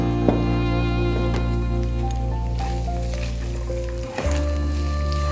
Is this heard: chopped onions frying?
yes